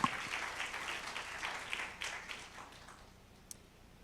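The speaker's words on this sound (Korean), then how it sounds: "박수로 청해 듣겠습니다." A conference audience applauds, steady clapping from a crowd in a hall that gradually thins and fades toward the end.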